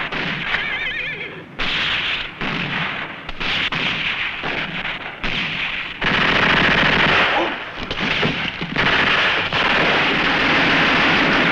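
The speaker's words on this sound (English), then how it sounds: "the machine gun." Rapid machine gun bursts roar through a western movie battle scene, loud and sustained, with shouts and neighing horses mixed into the chaotic gunfire.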